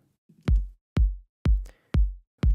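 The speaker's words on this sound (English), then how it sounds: "Really straightforward kick, no fancy stuff" Five punchy kick drum hits from a PML sample pack, evenly spaced about half a second apart, each a deep booming thud with a sharp click on the attack, loud and dry in isolation.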